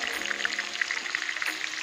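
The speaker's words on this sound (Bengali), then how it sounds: "আলুটাকে একটু ভেজে নেব" Potatoes fry in hot oil seasoned with turmeric and Kashmiri chili powder over an outdoor wood fire, giving a soft, steady, crackling sizzle throughout.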